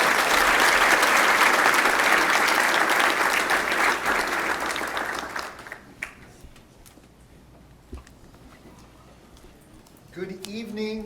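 Audience applause welcoming a guest speaker at a Mizzou accounting graduates event, loud sustained clapping from a crowd that fades out after several seconds, followed by a quieter room and a voice beginning to speak.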